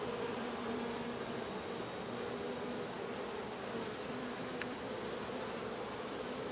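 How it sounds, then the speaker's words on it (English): Honey bees swarm around a backyard hive after rain, a dense steady buzzing drone that stays close and even from start to finish with no voices. "This one here's got some bees."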